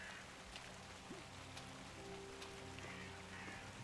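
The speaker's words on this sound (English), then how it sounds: "I turn down the rain just a little bit." Soft steady rain hiss from a horror video game, a faint even patter with occasional brief tones and thumps, low in level.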